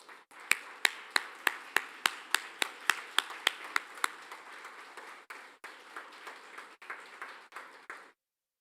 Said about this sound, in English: give a massive, rousing round of applause for those who have excelled and will be celebrated today